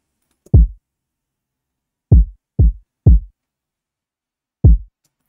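Sample-pack kick drum from a Lack City pack, five deep punchy hits with short decays, loud and dry, irregularly spaced with no other sound between them.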